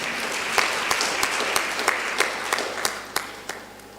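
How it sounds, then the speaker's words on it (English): A conference audience applauds steadily, a dense wash of many hands clapping with a few louder individual claps standing out, sustained at moderate volume throughout without a break. "Let's give her a round of applause."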